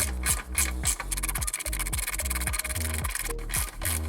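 A cross-threaded oil drain plug is turned slowly into an aluminum oil pan during a DIY car oil change, giving a steady, close rubbing and scraping of metal threads with rhythmic grinding strokes and no talk.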